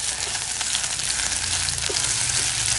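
Spice paste of shallots and garlic sautéing in a pan, a loud continuous close-up sizzle and crackle with no voices.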